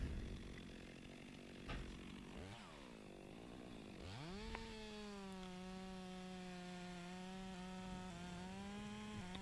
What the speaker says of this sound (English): I'm doing a bore cut or plunge cut into the center of it. And just removing all that holding wood.